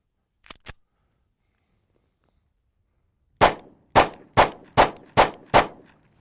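Standard hollow point rounds fired from a Kimber Micro 9 pistol: two quick faint reports early, then six loud sharp shots in an even, rapid rhythm, each ringing briefly, close by.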